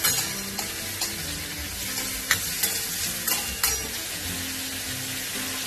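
Boiled chole frying in a pan, a dense continuous sizzle with a few sharp stirring scrapes and taps against the pan, close and loud with no talk.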